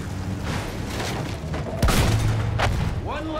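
A field gun is blown up in the Battlefield 1 video game, giving a sudden heavy boom with rumbling debris midway. Engine drone runs underneath, and a voice speaks over the blast.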